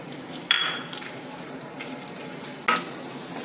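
Whole garam masala, two cardamom pods, a few cloves and two pieces of cinnamon, sizzling in hot oil with a steady close hiss, marked by two sharp louder bursts as they are stirred.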